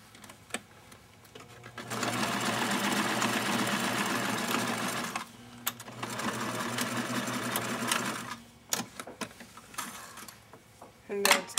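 A sewing machine stitching fabric for a small doll skirt, two steady whirring runs of a few seconds each with a short pause between, close, followed by light handling clatter.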